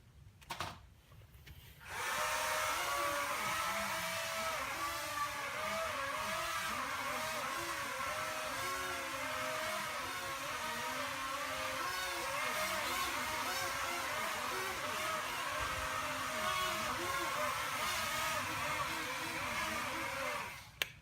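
A homemade hovercraft engine starts up in a garage after a brief rumble, then runs steadily and loudly for a long stretch with a wavering drone, cutting off at the very end.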